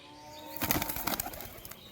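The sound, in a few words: released pigeon flapping its wings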